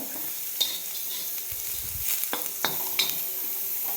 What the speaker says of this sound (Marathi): धन्याचा असा मस्त सुगंध येतो बघा त्या स्टेपपर्यंत आपल्याला ह्याला भाजायचं